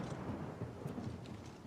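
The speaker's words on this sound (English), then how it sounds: "Horrible storm going on in game here as well, isn't there?" A video game thunderstorm rumbles low and continuously under steady rain hiss, a dense rolling wash with no clear individual claps.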